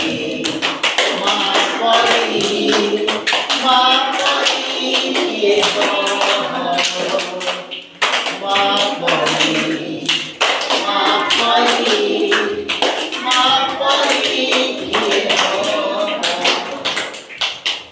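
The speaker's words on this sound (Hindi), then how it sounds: "मो संगे गाओ ताली मारी" Hands clap in a steady rhythm along with a sung children's song about the motherland, the claps loud and close, mixed with voices singing throughout.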